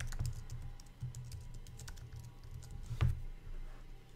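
Keys clatter on a computer keyboard as alt text is entered while editing images in the MODX CMS, a steady run of close clicks with a heavier burst near the end and no voices.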